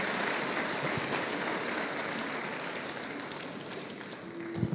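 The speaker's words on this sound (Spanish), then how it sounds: "Dale un aplauso al Rey" Church congregation applauding, a broad, continuous wash of many hands clapping at once from across the room, steady throughout with no talk.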